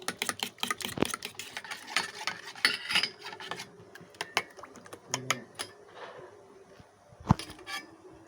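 Egg being beaten with a spoon in a bowl along with cumin, chilli and turmeric powder for a stuffed pointed gourd dish: a rapid run of light clinking taps, fairly close, pausing and resuming, with no talk.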